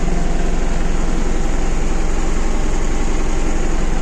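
A tractor pulling a cultivator drives home from a field where soybeans are being sown, its heavy diesel engine a loud, steady low drone with a constant rapid throb throughout and no speech.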